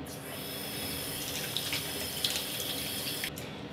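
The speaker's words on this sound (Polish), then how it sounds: "teraz spłukam sobie to przy pomocy wody" Tap water runs steadily into a sink while a face is rinsed, a continuous close hiss and splash with small irregular splashes throughout.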